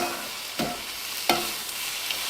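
Onions frying in a pan, a steady close sizzle with two distinct stirring scrapes and a light tap near the end, no one speaking.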